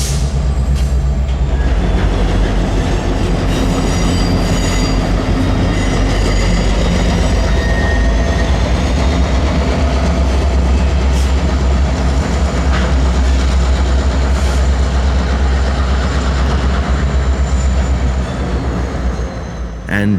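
Norfolk Southern locomotive 7134 switching railcars in a rail yard: a loud, continuous low diesel rumble with rolling clatter and faint wheel squeal throughout, no talking.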